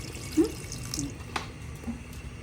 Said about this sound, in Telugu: దాని తర్వాత తగినన్ని నీళ్లు పోసుకొని